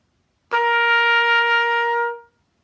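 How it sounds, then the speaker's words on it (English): A brass instrument holds one clean, steady high note for about a second and a half, starting sharply and fading out smoothly, loud and alone against silence. "this is a high pitch"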